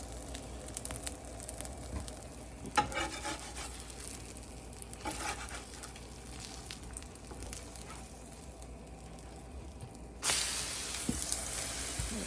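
A sourdough discard savory pancake fries in a pan of oil, giving a faint, steady sizzle with scattered crackles and a slightly louder hissing stretch near the end.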